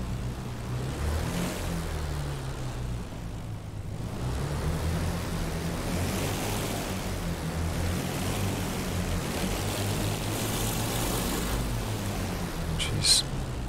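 The propeller engines of a Mosquito FB VI taxi toward the runway in the DCS flight simulator, a steady loud droning rumble that swells and eases slightly with throttle, continuous throughout.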